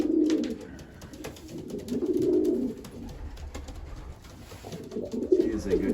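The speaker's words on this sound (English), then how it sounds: "There's thing one, cooing to Lavender." A racing pigeon cock coos to its mate at a nest bowl in a loft, with three low, rolling coo phrases close to the microphone and brief pauses between them.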